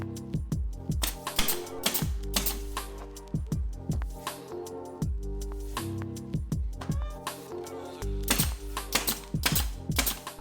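Sharp nail shots from a brad nailer joining the cut wooden sides of a square washer toss box, firing in quick irregular bursts with ringing, resonant thumps, close and loud with no talking.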